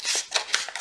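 Scissors snip open an iridescent pink envelope in a few quick, close, crisp cuts with papery rustle between strokes.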